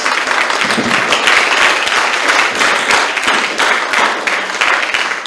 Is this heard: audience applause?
yes